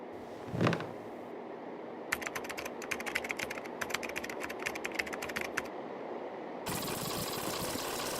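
Rapid keystrokes rattle on a computer keyboard in a sci-fi noir stop-motion scene, clustered bursts of crisp clicks over a steady background hum, ending in a brighter electronic hiss.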